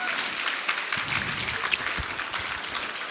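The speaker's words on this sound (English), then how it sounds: "So maybe a big round of applause for the audio and visual and the technical teams" A conference audience at a Roblox developer event claps steadily for about three seconds, a broad, dense wash of applause from a large crowd at moderate level, with no voices standing out.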